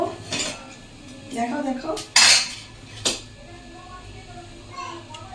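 Dishes and cutlery clank and scrape while cooked khichuri is spooned aside, with a sharp metallic clatter midway, a quieter knock after, and a voice chattering in the background.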